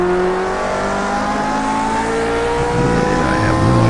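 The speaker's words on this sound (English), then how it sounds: "I've got an F1 racer here and I'm going to cruise around the track." An F1 race car's engine in Project Cars 2 screams at high revs with rising and falling whining tones as gears change, loud and close, with a brief tire squeal or second car toward the end.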